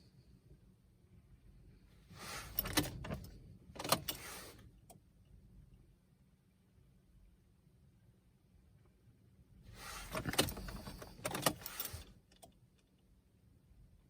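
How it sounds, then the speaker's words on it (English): Key and ignition clicks in a 2016 VW Touran, quiet clusters of mechanical ticking and rattling in two bursts separated by near silence. "Turn the ignition to the second position."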